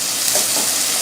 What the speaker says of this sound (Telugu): మంచిగా ఇది ఇంకా మంచిగా ఫ్రై అవ్వాలండి